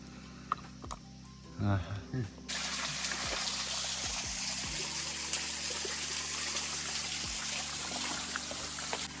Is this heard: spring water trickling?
yes